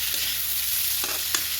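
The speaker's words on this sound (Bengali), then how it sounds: "আলু ভাজা হইতাছে, গরম গরম আলু ভাজা" Potatoes frying in a hot pan, a steady sizzle running throughout with a few brief louder crackles and stirring knocks, close and alone with no talk.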